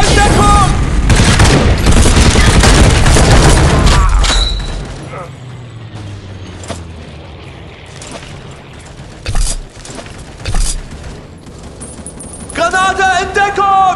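Grenade blasts and gunfire in a war video game burst out loud and dense at first, then thin to scattered shots and thuds, with a few sharp cracks later; a voice shouts over the opening.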